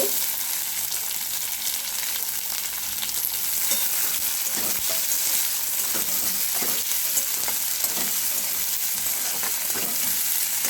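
A medium-sized onion fries in a pan until reddish, a steady loud sizzle with scraping stirs breaking through now and then, with no talking.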